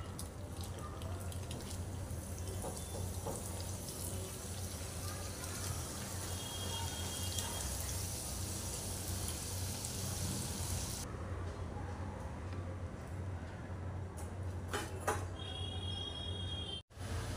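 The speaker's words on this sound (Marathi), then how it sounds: "अशाच प्रकारे सगळ्या करंजा आपण तळून घेऊया।" Coconut karanji pastries frying in hot oil, a dense steady hiss and sizzle of bubbling oil at close range, continuing for many seconds before cutting off abruptly near the end.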